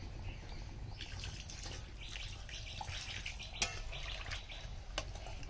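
Water pours into a pan of braised chicken in a home kitchen, a steady close splashing wash with a few sharp clinks, and faint birds chirping in the background.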